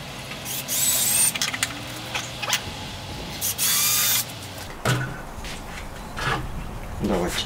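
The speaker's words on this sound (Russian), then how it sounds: "Так что сверлим пару дырок здесь," Several short bursts of a power drill whining as it drills holes for a homemade parrot perch, separated by pauses with faint rustling and handling noise in between.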